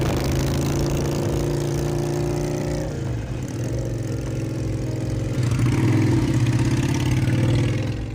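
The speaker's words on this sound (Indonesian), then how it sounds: "Kalian dengarkan saja merdunya SM Sport V16 hasil modifikasi dari Kojai" Modified SM Sport V16 cruiser motorcycle with a two-cylinder V-twin engine, idling close with a loping throb, then blipping its throttle in short revs before settling back to a rumbling idle.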